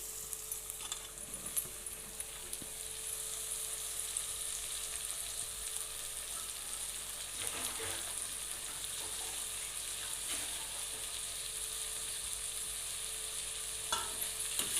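Chopped onions and tomatoes fry for a prawn curry, giving a steady, soft sizzle across the whole stretch with occasional scrapes and light stirring knocks from the pan, no voices.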